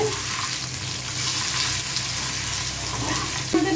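Potato pieces fry loudly in oil in a pan with a dense, continuous sizzle, then a stir or turn near the end.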